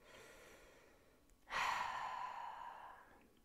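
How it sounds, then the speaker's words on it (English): A single deep breath, drawn in and let out slowly as a soft sigh that swells for about two seconds, close and quiet, with no talking. "I just want you to take a deep breath"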